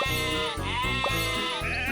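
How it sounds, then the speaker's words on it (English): Several sheep in a video game bleat in quick succession, loud and close, their wavering calls overlapping over about two seconds with no talking. "Sheep have wandered onto the tracks."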